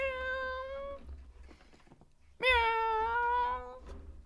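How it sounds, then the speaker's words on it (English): Two drawn-out cat meows, close and clear, separated by a short pause, the second louder and longer than the first. "for the pretty little kitty cat"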